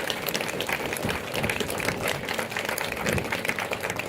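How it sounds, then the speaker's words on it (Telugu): An audience at a spiritual discourse breaks into a full round of applause, a dense and even clatter of many hands that fills the whole stretch at moderate loudness. "అందుకని గట్టిగా ఒకసారి చప్పట్లు."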